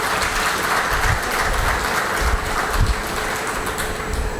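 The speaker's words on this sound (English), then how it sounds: "Can we have a round of applause for them?" An audience at an advisory board event applauds steadily to welcome its advisors, a dense, sustained clapping that holds at an even level for the whole stretch with no talk over it.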